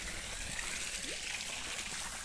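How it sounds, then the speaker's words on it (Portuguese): Water on a farm in Itumbiara, Goiás, trickles and flows gently in a soft continuous hiss, faint and steady outdoors with no voices. "ouvindo esse barulhinho aqui da água, que é gostoso demais"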